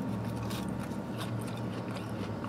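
Crunchy, warm Jack-in-the-Box fries are bitten and chewed close up, with several crisp crunches scattered over a quiet background.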